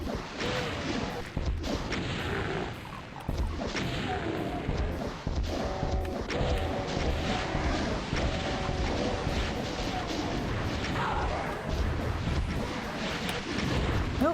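Rocket blasts boom repeatedly in a Doom-style game map, a dense run of loud explosions and crashes over about fourteen seconds with steady gameplay noise underneath.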